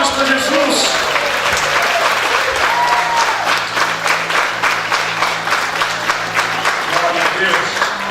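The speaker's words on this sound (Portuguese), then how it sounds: "Dê uma salva de palmas para Jesus." Sustained applause from a church congregation at an evening service, a dense wash of hand claps running steadily throughout with voices calling out beneath it.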